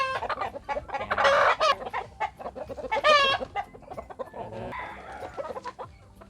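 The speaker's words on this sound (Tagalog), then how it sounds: "My chickens. This is one of the hens." Hens on a small provincial mini farm cluck nearby in several loud, drawn-out bursts separated by quieter murmuring.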